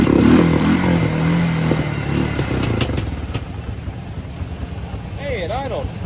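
A Honda 300 Fourtrax ATV engine runs steadily nearby with a rough, rumbling idle, and a voice speaks over it.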